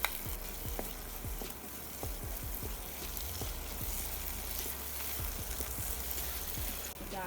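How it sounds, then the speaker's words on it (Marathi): Finely chopped green chillies fry in hot tempering oil with onions for a prawn bhaji, a steady close sizzle with scattered crackles and pops throughout. "मी आता याच्यामध्ये मिरची टाकते बारीक चिरून घेतलेली."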